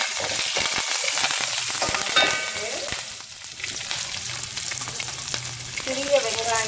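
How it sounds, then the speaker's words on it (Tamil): Small shallots sauté in hot oil with cinnamon, curry leaves and green chillies for a mutton gravy, a loud close sizzle broken by the scrape and clatter of stirring, with no talking. "சிறிய வெங்காயம் இப்போ வதங்கி வந்துருச்சு"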